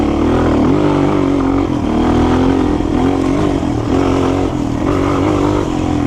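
A Honda XR200 trail bike with an air-cooled 200cc single drones steadily at close range, a continuous low engine note with slight rises and dips in pitch and no voices.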